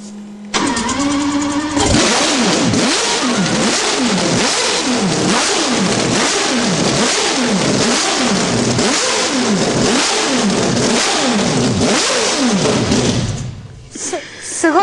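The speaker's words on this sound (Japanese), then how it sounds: "ちょっと一発エンジンかけてみましょうかね。" A Mazda rotary-engined car cranks, fires and settles, then revs hard in a rhythmic series of about a dozen rising and falling blips, loud and close, before cutting off near the end.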